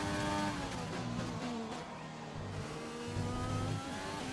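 A Formula 1 car engine in F1 2020 at the Russia circuit screams at high revs on a flying lap, shifting through gears with rising and falling pitch, loud and continuous.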